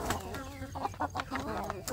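Free-range village chickens, hens beginning to lay eggs, cluck and murmur close by in short, tonal, repeated calls that overlap and rise and fall over a low, steady background.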